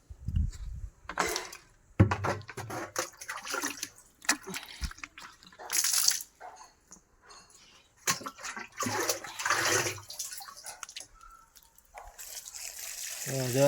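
Water tipped from a bucket onto oil cake set to soak, heard as scattered splashing gushes separated by quiet pauses, fairly faint and close.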